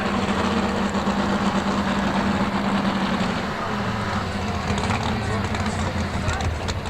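A super stock pulling tractor named Double Trouble at the 1988 Ohio State Fair runs with a steady, loud low engine drone, its pitch shifting midway, while an announcer talks over it.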